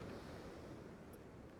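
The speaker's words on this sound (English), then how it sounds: "there's been water up there because the waves are coming in quite strongly" Ocean waves surging strongly onto the shore, a steady broadband wash of surf with wind rumble on the microphone, continuous and fairly close with no talking.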